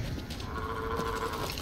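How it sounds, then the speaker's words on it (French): Cows moo in the video game Diablo 3, a drawn-out lowing tone that is fairly faint within steady, dense game background noise. "Oh les vaches."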